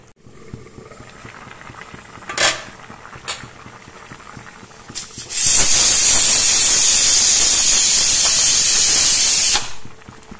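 A fish curry pan with tomatoes boils. A few sharp sizzles and spatters are followed by a loud, steady hiss of bubbling and steam lasting several seconds, then it cuts off abruptly.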